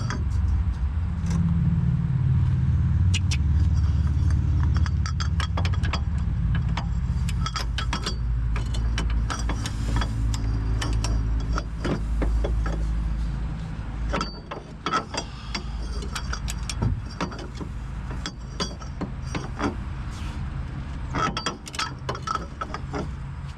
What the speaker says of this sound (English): you want to torque them to factory specs